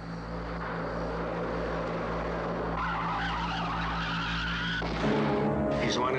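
A car skids in a movie trailer effect, a loud, sustained tire-and-engine drone that rises in intensity and then breaks off abruptly near the end as the tire blows out.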